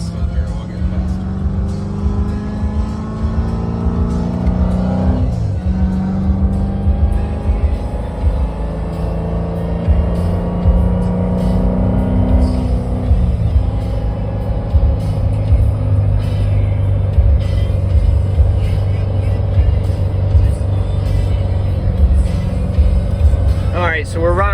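A car with an eight-speed automatic gearbox and paddle shift cruises at about 60 in fourth gear, its engine drone and road rumble steady and loud from inside the cabin, with engine pitch shifting a few times and people talking over it.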